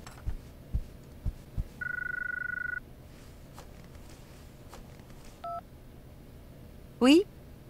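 Telephone keypad tones sound in short bursts, a steady two-tone beep and a rising ring chirp, in a quiet interior scene of the Syberia II video game.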